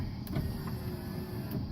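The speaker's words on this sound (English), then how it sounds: "for the test, look at there, got her going" A Mini Cooper power window motor runs after a repair, giving a quiet, steady electric whir for under two seconds, with faint clicks at the start and end.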